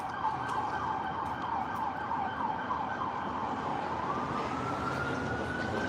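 An ambulance siren wails, cycling up and down over steady road noise in Los Angeles, then settles into a long rising tone, loud and fairly close.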